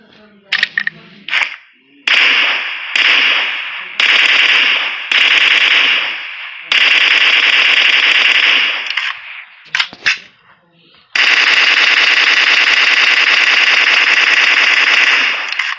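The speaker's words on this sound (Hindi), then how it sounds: "फिर जब आप कंपेंसेटर को यूज करते हो उसका साउंड।" An M416 assault rifle fitted with a compensator fires in a video game, sounding loud and close in short bursts and long automatic strings separated by brief silences.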